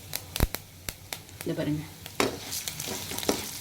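Urad dal frying in hot oil in a home kitchen, a soft close sizzle with sharp clicks and scraping stirs, under a brief spoken remark.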